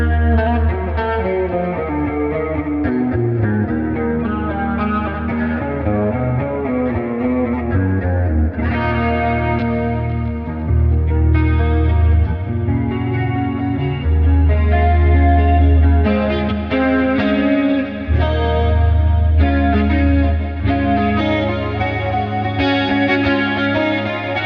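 Electric guitar through a clean preset in the Neural DSP Archetype Petrucci plugin, with chorus and reverb, playing a steady flowing run of chords and notes, loud and alone with no talk.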